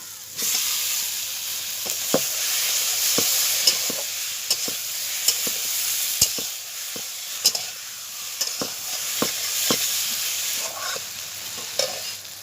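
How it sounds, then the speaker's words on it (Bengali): Potatoes fried and then sautéed in a pan with turmeric, cumin and coriander powder for a silver carp curry: a steady sizzle runs throughout, broken by repeated sharp clicks and scrapes of a spatula against the pan. "আলু মশলার সঙ্গে ভালো করে কষে নিয়েছি"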